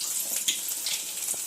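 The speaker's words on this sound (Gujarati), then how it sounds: "થોડું બધું પાણી નાખવું અંદર" Water pours from a tap into a cooking pot for a tomato curry, a steady splashing stream running close by without talk.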